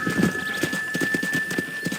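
Horse hooves clip-clop at a steady trot in a Red Dead Redemption ranch ride, a regular rhythmic beat of soft thuds beneath a faint steady electronic tone.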